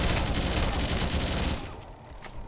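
Dense burst of gunfire blowing up a Ghost vehicle in the Halo Mega Bloks video game, a loud sustained volley for about a second and a half that then drops off into a quieter tail with a few scattered shots.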